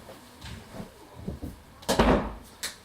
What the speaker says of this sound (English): I'm just going to close the door because my kids are making too much noise.